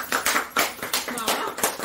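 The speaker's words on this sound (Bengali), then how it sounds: "হাততালি।" A small group of people clap their hands at an informal Teacher's Day gathering, with several quick, uneven bursts of applause close by and voices mixed in.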